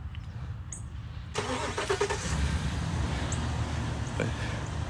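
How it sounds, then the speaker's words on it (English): A truck engine cranks and catches, then settles into a steady rumbling idle close by, with a few faint clicks over outdoor background noise. "Let me go ahead and start the truck."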